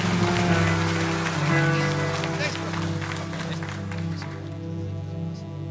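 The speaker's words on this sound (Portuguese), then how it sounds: "Uma salva de palmas a Deus pela vida desse homem." A church congregation breaks into sustained applause after a blessing, a dense wash of clapping filling the room with an organ or keyboard chord held underneath.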